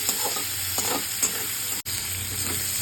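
Shrimp fry in a wok with a steady sizzle and several stirring scrapes, the frying close and continuous, with a brief dropout near the middle.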